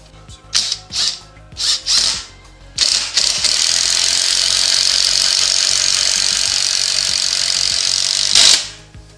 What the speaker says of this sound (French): Et on va réessayer dans du bois plus tendre pour voir ce que ça donne.